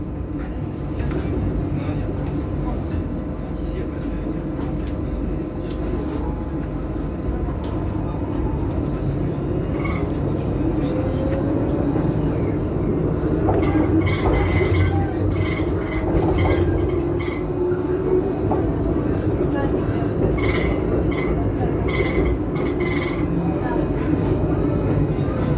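A Lyon T6 tram runs steadily with a continuous low rumble and hum of wheels on rail, joined partway through by faint metallic squeals and clicks, heard from on board at moderate loudness.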